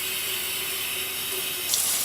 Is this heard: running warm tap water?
yes